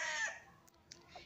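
A gamecock crows once nearby, a bright strained call that fades, followed by a few faint clucks.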